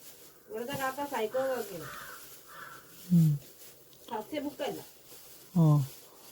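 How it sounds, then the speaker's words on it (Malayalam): Crows caw in a village in harsh bursts, with a quick cluster of calls followed by spaced single caws, close and fairly loud, alongside a few low voice-like sounds. "ഇവിടുത്തെ കാക്ക ഭയങ്കര ശല്യമാണ് ഗൈസ്."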